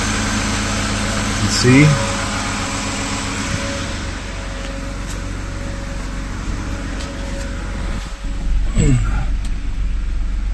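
A BMW E36 323i Touring engine idles after an M54B30 cam swap, a steady close hum with a brief rev bump near the start, while someone talks briefly over it.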